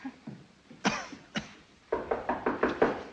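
Knocking at a door comes as a couple of isolated raps followed by a quicker run of six or seven firm knocks, fairly close and clear with no talking over them.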